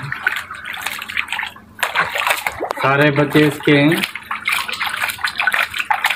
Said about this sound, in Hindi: ये पहली बार नहा रही है पानी में।